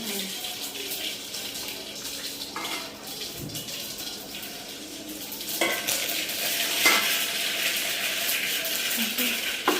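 Hot oil sizzles and crackles steadily as dhokla is tempered and stirred in a pan, with faint clinks, growing a bit louder partway through.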